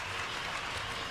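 Applause for a clear show-jumping round at an outdoor equestrian grand prix in San Patrignano, a steady wash of clapping from a distant crowd, fairly faint and continuous throughout.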